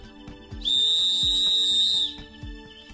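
A single long, shrill blast of an emergency whistle rings out for about a second and a half, over soft, regular thudding steps in the background.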